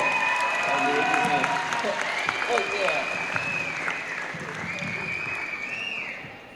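An audience at a school performance applauds and cheers for Rolly Rat, a crowd clapping under a voice talking through it, with some whistles or cheers on top, fading near the end.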